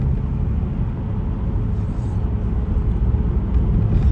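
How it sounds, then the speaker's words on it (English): Steady low rumble of road and engine noise inside an aging car on the move, a constant dense drone with no speech. "how noisy my car is, that it kind of messes up the audio a bit"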